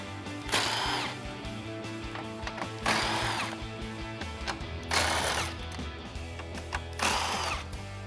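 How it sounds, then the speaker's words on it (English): An impact gun with a deep socket zips off 10mm grille bolts on a 2014-2015 Silverado 1500, four short loud rattling bursts spaced about two seconds apart over a quiet background. "I'm switching over to an impact gun and a deep socket"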